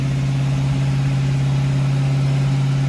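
A 1934 Chevy hot rod engine with a fresh camshaft being run in holds a steady, slightly raised idle, an even droning hum close to the microphone with no voices.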